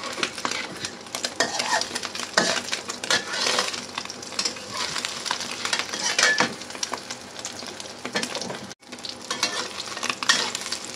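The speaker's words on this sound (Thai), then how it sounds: "เราก็ค่อยๆทอดทีละด้าน ไม่กลับด้านบ่อยเพราะว่าน้ำมันจะได้ไม่อมเข้าไปนะคะ" A nham omelette fries in oil in a pan, one side at a time, with a constant crackling sizzle and occasional scraping and clinking of a utensil against the pan.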